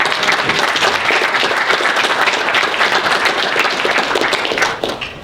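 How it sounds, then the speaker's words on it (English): Sustained applause from a convention audience thanking a board game publisher panel, dense steady clapping throughout that tapers slightly at the end. "round of applause for the panelists tonight."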